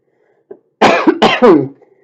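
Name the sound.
coughing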